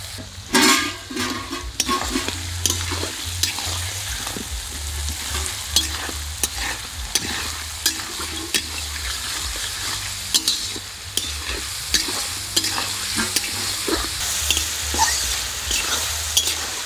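Vegetables for mutton fried rice sizzle steadily in a hot pan while a utensil scrapes and stirs them in quick, repeated strokes, close and continuous with no talking.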